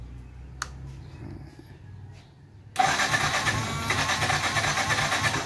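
Yamaha FZ16 motorcycle with a cold-start problem, engine cranking without catching: quiet clicks, then a sudden loud, steady churning whir that holds to the end, no voices.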